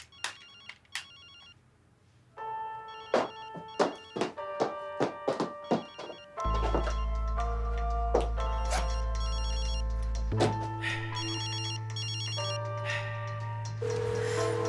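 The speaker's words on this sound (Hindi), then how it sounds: "सईद, खुदा के लिए फोन उठाओ मेरा।" A telephone rings in a Turkish drama dubbed into Urdu, with repeated electronic bell trills and thunks, first in short separate bursts, then steady and sustained with a low hum beneath, with no voices.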